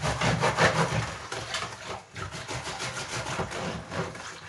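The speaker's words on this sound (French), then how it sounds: "Donc maintenant, on va tout bien mélanger avec le fouet." A whisk briskly stirring ceramic glaze powder into water, a continuous scraping, swishing churn with steady rhythmic strokes, close and fairly loud, with no talking.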